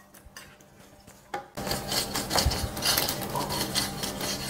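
Crispy fried pork lard cracklings stirred in a pan: a dry, crunchy rasping and scraping starts after a quiet moment and continues steadily and close by, with no voices.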